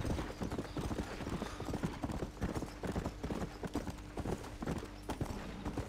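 Stagecoach horses trot in the Western video game Red Dead Redemption, a dense, continuous rhythmic clip-clop of hooves with rumbling wheels underneath, steady and fairly close throughout.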